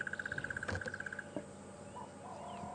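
A crested barbet calling on a safari drive in the African bush, a rapid steady trill of evenly spaced notes that runs for over a second before stopping, fairly close, with faint background insects and vehicle noise.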